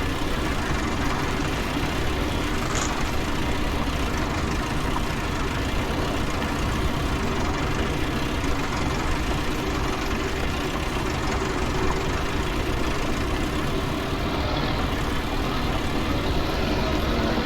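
A tractor engine idles steadily before ploughing grass, a continuous low rumbling drone, close and unchanging.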